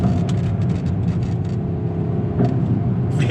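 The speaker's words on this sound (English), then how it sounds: "You can hear the exhaust. You can hear it rev match as it comes down." The exhaust of a 2018 Mercedes-AMG GLC63 S blips and burbles as the engine rev-matches on downshifts, a series of short sharp bursts over a steady engine hum heard from the cabin.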